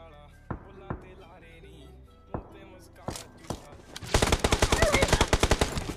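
M4 Glacier gunfire in the PUBG Mobile game: a few spaced single shots, then a rapid full-auto burst, with a voice talking underneath.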